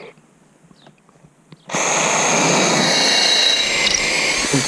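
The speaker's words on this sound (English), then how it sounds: "So now I need to get rid of that one too and drill through it" A power drill bores through an aluminium hydrofoil mast, starting abruptly after a quiet stretch and then running loud and steady, close by, until the end with no pause.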